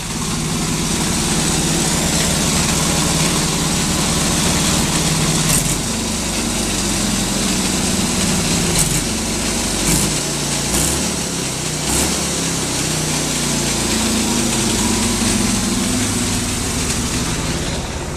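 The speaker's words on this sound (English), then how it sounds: "One more rev and I'll shut her down." A hot-rodded 1945 Harley-Davidson engine runs loud and close, a continuous raw mechanical roar with slight swells in intensity and no voices over it.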